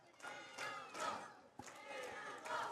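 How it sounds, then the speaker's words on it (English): A wrestling crowd at a live match chants in repeated rhythmic waves, several loud rising calls in a row that sound somewhat distant and roomy. "this crowd chanting for Manimal"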